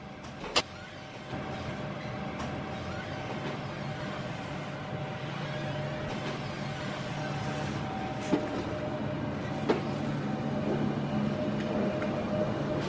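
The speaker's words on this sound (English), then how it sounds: "As the train departs" A South West Trains electric multiple unit, Class 455 or Class 442, departs, with a steady motor hum and rumble that builds slowly and has a few clanks and squeaks, heard alone without talk.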